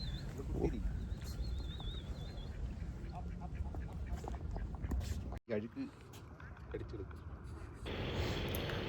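Ducks quack outdoors over a steady wash of background noise and nearby chatter, with a sharp knock partway through.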